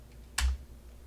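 A single sharp key press on a computer keyboard, one crisp click standing alone against a quiet background.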